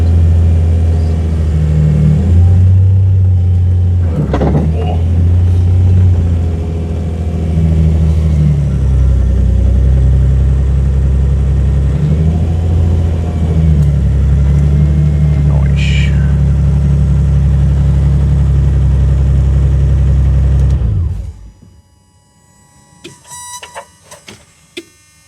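A Nissan 200SX S12 engine turns over and settles into a loud, lumpy idle with a few blips of the throttle, then cuts off abruptly, leaving near silence with faint clicks.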